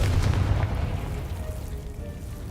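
A Confringo fire-blast spell goes off in Hogwarts Legacy: a deep booming burst with a heavy low rumble that slowly fades over a couple of seconds.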